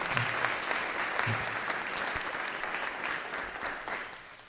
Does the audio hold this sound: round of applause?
yes